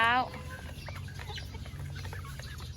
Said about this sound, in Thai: วิถีชาวบ้านดูไก่ ไก่นะคะ เช้าเช้า